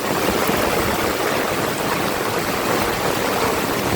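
Heavy, unbroken rain pours down with flood water rushing over a potholed road in Bucana, a dense, loud hiss and roar filling the whole stretch without pause.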